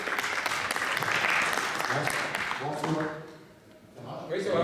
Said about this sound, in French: On applaudit Benoît Peignet.